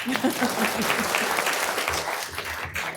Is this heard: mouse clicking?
no